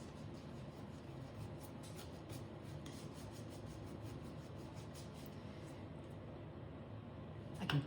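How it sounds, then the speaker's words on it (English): Light wax is rubbed onto wooden furniture by hand, making a faint, continuous soft scrubbing and rasping that runs steadily throughout without talk. "You start applying your light wax."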